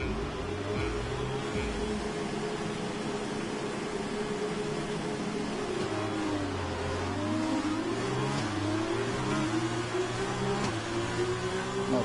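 An F1 2020 race car launches from the start at Zandvoort, the engine note climbing steadily through repeated gear changes among the roar of the surrounding field. The sound is continuous and fairly quiet.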